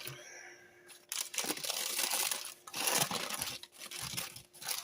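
Close, crisp crinkling of a plastic zipper bag being handled with chocolate caramel fudge, rustling in bursts with brief pauses.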